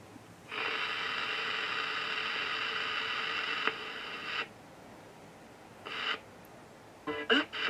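A ghost box device in non-echo mode gives off a loud, steady hiss of radio static for several seconds, then cuts out and returns in short choppy bursts of scanning noise.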